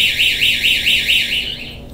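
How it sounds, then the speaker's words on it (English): A LifeSmart anti-theft alarm triggered by an opening door sensor gives a loud, rapid, repeating warbling electronic siren tone that stops abruptly near the end. "send a message to the phone and trigger the alarm"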